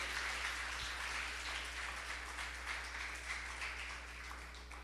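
A church congregation applauds for the Lord, a dense wash of clapping that stays steady and then eases slightly, heard over a low electrical hum.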